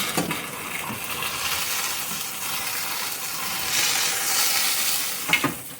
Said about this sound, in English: So what happens to a burger like that? Goes in a pan.